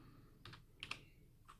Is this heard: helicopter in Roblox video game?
no